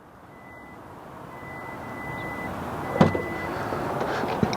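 A 2024 Hyundai Kona Limited's hands-free tailgate gives a soft electronic beep briefly, followed by a click and another faint beep over a low, steady outdoor rumble.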